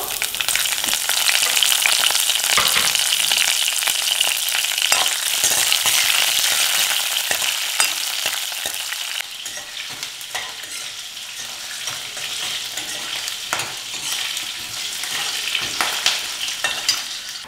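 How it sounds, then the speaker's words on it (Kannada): Crushed garlic with dried and green chillies crackles loudly in hot oil. A dense, spitting sizzle with sharp pops and stirring scrapes settles to a quieter, steady fry about halfway through. "ಒಂದು 6 ಬೆಳ್ಳುಳ್ಳಿ ಹೆಸರನ್ನ ಜಜ್ಜಿ ಹಾಕ್ತಾ ಇದ್ದೀನಿ."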